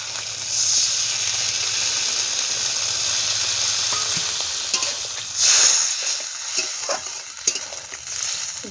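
Mung posto, a vegetarian poppy seed and lentil dish, sizzles in a pan as a little water goes in, giving a loud steady hiss with brief bursts of sputtering and a few faint clinks, close by and with no talking.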